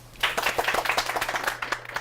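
Audience applause for guests being introduced at a Korean science and technology career mentoring TV event: dense, steady clapping from a crowd, moderately loud and continuous for the whole stretch, with no voices.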